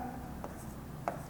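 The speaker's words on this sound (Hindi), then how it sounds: "फार्मूला लिखता हूं डाईएथिल ईथर का" A pen scratches briefly on paper while a chemical formula is written by hand, two short faint strokes close by in a quiet room.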